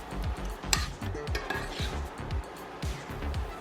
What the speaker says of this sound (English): As I'm mixing all the veggies in